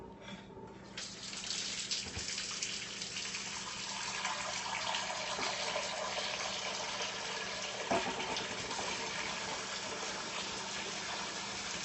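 Water runs from a tap into a crockpot holding a can, a loud steady gushing stream that starts abruptly and continues without pause.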